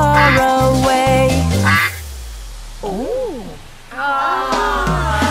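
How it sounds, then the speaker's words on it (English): Cartoon duck quacks in a children's nursery song, a short run of nasal quacks set into bright sung melody and backing music, loud and close. "Mother duck said quack,"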